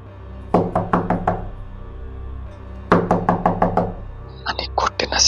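Knocking on a wall from a neighbouring house, heard as two sharp groups of five or six raps, followed by quicker, lighter taps near the end.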